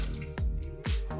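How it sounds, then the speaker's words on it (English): Hot water is poured off blanched tomatoes, giving two distinct splashing drops and pours, close and fairly loud, with no talk. "I put the water out"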